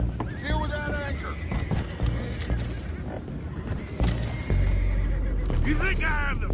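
A horse whinnies in the video game Red Dead Redemption 2, with neighing calls rising over a busy mix of hooves, clattering mechanisms and rumbling background, and voices talking throughout.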